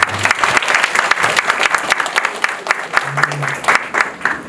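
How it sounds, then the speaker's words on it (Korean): An audience at an academic conference applauds steadily for several seconds, a dense patter of claps filling the room. "지금까지 열띤 발표를 해주신 여러 선생님들께 박수 한번 주십시오"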